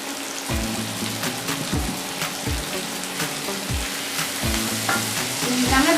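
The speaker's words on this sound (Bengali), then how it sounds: "চিংড়িটা আমরা ভেজে নিই।" Prawns fry in hot mustard oil in a kadai, giving a steady close sizzle broken by repeated scraping stirs and low clunks of the utensil against the pan, with no talk.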